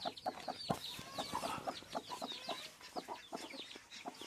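Hen with newly hatched chicks, soft rhythmic clucking and bursts of high, thin peeping from the chicks, close and continuous at moderate volume.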